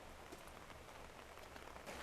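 Soft, steady rain falls on surfaces during a quiet autumn yoga session, a dense even patter close by with no voices over it.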